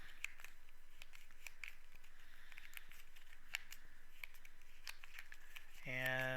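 Someone shuffles a small deck of Frosthaven board game cards near the microphone, making soft, rapid flicking and riffling clicks at an even pace, with a brief tonal beep at the end.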